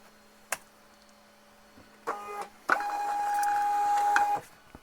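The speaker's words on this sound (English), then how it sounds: "I can just send it straight to the printer" A Born4Ship thermal label printer prints a 4x6 label, giving a few clicks and then a steady motorised whir for roughly two seconds that stops abruptly, in a quiet room.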